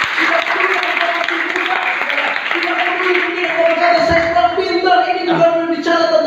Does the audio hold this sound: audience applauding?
yes